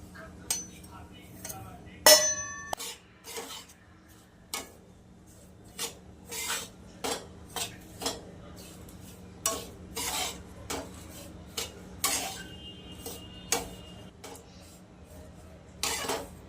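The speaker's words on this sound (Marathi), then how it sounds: "एक चमचा तूप टाकून हे ना खिस आपण थोडासा भाजून घेऊया" Grated coconut roasting in a spoonful of ghee in a pan over medium heat for modak: a quiet, irregular series of spatula scrapes and metal clinks against the pan, with one sharper clatter early on.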